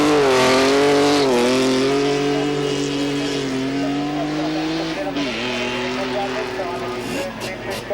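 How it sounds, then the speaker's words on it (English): A race car at the 1994 Australian Hillclimb Championships at Collingrove climbs through the gears with a loud, close, strained engine note. Pitch rises and dips as it shifts, and a commentator talks over it. "we welcome the active motor racing car to the bridge"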